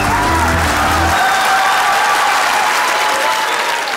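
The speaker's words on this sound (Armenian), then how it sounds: "Եկեք բարձր ծափարենք մեր այսօրին" Studio audience applauding loudly, a dense sustained burst of clapping that carries on for several seconds, with a low tone fading beneath it at the start.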